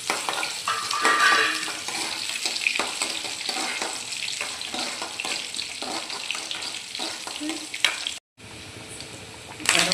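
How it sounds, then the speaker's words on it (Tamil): Crushed garlic, cumin and fenugreek sauté for Tamil-style sambar, giving a steady loud sizzle with stirring scrapes throughout; a brief drop to silence near the end is followed by renewed frying. "சீரகம் 2 வெந்தயம் இது போட்டு நல்லா வதக்கணும்"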